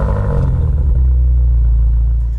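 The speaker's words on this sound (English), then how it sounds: "This feels like a good time to listen to the engine's cold start." A new BMW M5 fires up from cold, its engine flaring loud with a brief rev before dropping into a steady, deep, rumbling idle close by.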